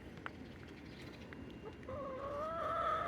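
Backyard hens cluck in a garden on a summer morning, soft scattered clucks at first, then a louder drawn-out warbling call from a nearby bird.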